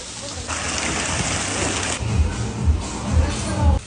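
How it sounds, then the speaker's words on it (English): Steady hiss of artificial rainfall pouring outside a Korean cafe, a broad wash of falling water with low rumbling thuds, while a crowd murmurs in the background. "They literally have a rainfall outside."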